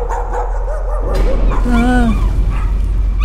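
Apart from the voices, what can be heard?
dog barking in the Layers of Fear video game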